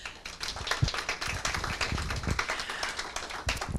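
An audience at a diversity-in-tech panel gives the speakers a round of applause: many hands clapping densely and evenly at moderate volume, with no voices over it.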